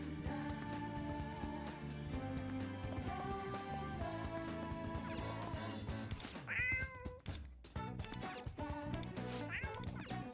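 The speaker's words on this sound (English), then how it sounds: "I hear a cat meowing." A cat meowing in the video game Persona 5: The Phantom X, a few short mews over continuous game music with crashing effects midway.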